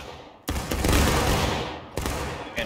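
A company of Civil War era muskets fires a volley in War of Rights, one loud ragged crash of overlapping shots that rolls on and fades, followed by a few more scattered reports.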